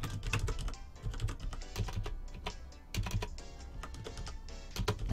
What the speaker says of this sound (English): I keep typing it wrong.